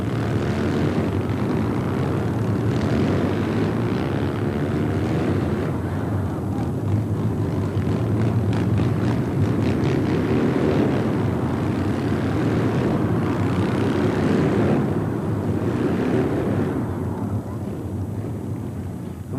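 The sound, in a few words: Triumph twin 750 motorcycle engines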